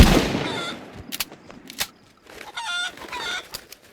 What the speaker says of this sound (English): So I'm gonna shoot this zombie, even though it is gonna attract a ton more. I think it's gonna give me time to kill this